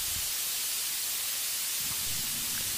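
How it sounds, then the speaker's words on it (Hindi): Onion and tomatoes frying in a pan for masala dosa filling give a steady, soft broadband sizzle and hiss that holds evenly throughout, with a faint low clatter near the end and no voices. "थोड़ी देर टमाटर को फ्राई होने देंगे।"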